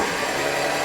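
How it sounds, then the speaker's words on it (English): A 1967 Triumph Spitfire MK3 engine cranking with the fuel pump disconnected, a steady close mechanical whirr throughout with no voices. "Let's crank it."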